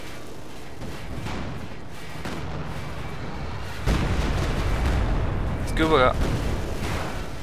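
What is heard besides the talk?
railway artillery gun firing in video game Company of Heroes 2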